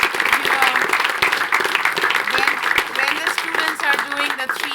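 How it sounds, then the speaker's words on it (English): Audience applause for a professor at a university graduate business school event, a dense steady burst of many hands clapping close up throughout, with a few faint voices mixed in. "So if he can give a big round of applause to him."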